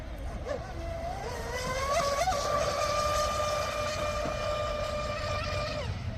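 A speedboat fitted with a stainless steel race prop runs at full throttle, its engine whine climbing in pitch and then holding a steady, loud roar.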